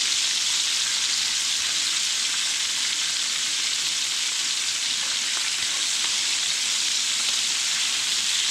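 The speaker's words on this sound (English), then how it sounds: "we're gonna let this sear a little bit longer." A duck breast sears in a hot pan, giving a steady, loud, close sizzle of rendering fat with no pauses and no voices.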